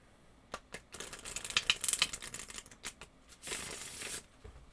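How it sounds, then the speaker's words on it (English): Tarot cards are shuffled close up in a quiet setting, giving irregular bursts of crisp riffling, flicking and tapping that come in clusters. A longer sustained riffle arrives near the end. "I'll go ahead and start shuffling these."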